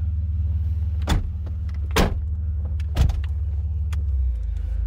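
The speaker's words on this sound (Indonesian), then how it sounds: "Wah, masih bekerja semua kursi elektriknya." Electric seat motor in a Mercedes tuned by AMG Japan, giving three short whirring bursts about a second apart over a steady low engine idle hum inside the car.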